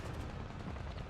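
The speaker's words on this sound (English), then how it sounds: "The sounds of gunfire and human calls fill in the air." Gunfire from a battlefield in the video game Punishing: Gray Raven forms a dense, continuous rumbling barrage of shots and booms, steady and loud throughout with no voices.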